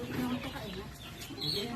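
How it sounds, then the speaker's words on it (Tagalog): Chicks cheeping on a chicken farm, a busy cluster of small calls with a hen's clucks mixed in, close by, with people talking over them. "Ang dami sisiw."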